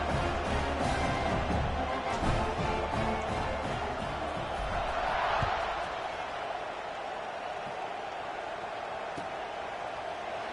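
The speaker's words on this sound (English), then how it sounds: "this crowd is buzzing after that last score" Stadium crowd noise in a college football video game, Oregon versus USC, a dense, continuous roar and murmur that swells slightly midway, then settles into a steady hum.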